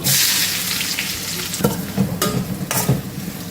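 Onions, cumin, curry leaves and mustard seeds frying in oil in a pan for a prawn and fish curry, a steady close sizzle with a few sharp stirring scrapes partway through.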